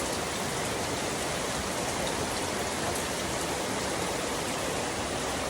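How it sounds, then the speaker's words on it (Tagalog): Steady heavy rain falls outdoors on a sudden shower under a bright sun, a dense unbroken hiss with no voices and no pauses. "Na ni ulan pa man."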